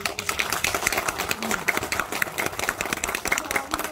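Dense, continuous audience applause fills a political gathering honoring lawmaker Yoon Mi-hyang, many hands clapping steadily and fairly loud with no voices over it.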